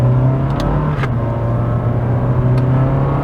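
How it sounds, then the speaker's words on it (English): A Honda Fit RS Hybrid driving along, heard as a steady engine drone and road rumble from inside the car, loud and continuous, with a few faint clicks and no talking. "Driving the Honda Fit RS Hybrid."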